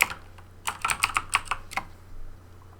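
Typing on a computer keyboard beside a 6502 breadboard computer: a quick burst of about a dozen crisp key clicks in an uneven rhythm, close and clear over a low steady hum, with no voices.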